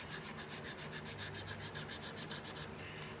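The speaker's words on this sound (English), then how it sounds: "it's up to you how much that you sand away" Steady rhythmic sanding strokes on a tin jewelry piece cut from a Christmas tin, about a dozen even rasping passes close up that stop near the end, with no talking.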